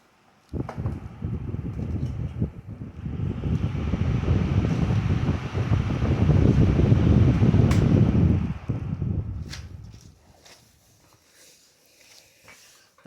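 A 1998 Lasko 16-inch 2116 stand fan, left outdoors for a while, whirs steadily as a broad, loud airy hum, then winds down after shut-off, fading gradually to near silence over several seconds.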